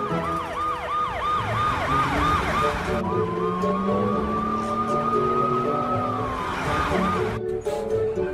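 Cartoon ambulance siren wailing in fast repeating up-and-down sweeps, then shifting to a long steady tone that slides downward, loud and close over a rumbling vehicle engine.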